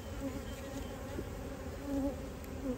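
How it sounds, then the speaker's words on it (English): Honey bees crowd a hive frame during a routine inspection, making a dense, steady hum that swells slightly now and then, close up with no voices. "now that is a frame full of bees"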